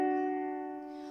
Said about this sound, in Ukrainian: Ось Послухайте, як звучить велика терця